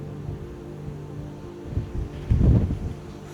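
Strong outdoor wind buffeting a microphone during a yoga session, low rumbling gusts that swell in bursts, the loudest near the end, over a quieter steady background.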